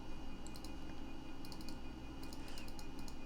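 Soft clicks of typing on a keyboard fitted to a Commodore computer, entering graphics characters, come in brief clustered bursts of a few keystrokes over a steady low hum, with no talking.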